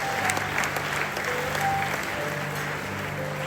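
A church congregation claps for the Lord in a steady, dense burst of applause that runs loud and continuous from start to finish, with no voices standing out.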